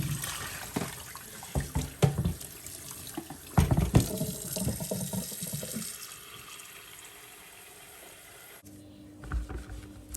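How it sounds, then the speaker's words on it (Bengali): Running tap water rinses a tea kettle after limescale cleaning, a steady splashing flow with irregular louder bursts as the kettle is moved under the stream, easing off near the end. "ফাইনালি আমি এটা পানি দিয়ে ধুয়ে নিচ্ছি ভালো করে।"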